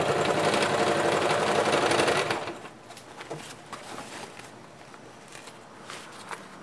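A sewing machine stitching a bag with a wire-framed opening runs in a fast, loud, steady whir for about two seconds, then stops, leaving light handling clicks and taps.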